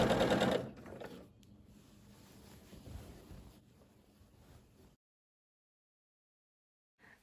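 Sewing machine stitching windmill quilt blocks into the corners of quilt border pieces, a loud burst of running at the start that settles into a steadier, quieter whir before stopping, then near silence.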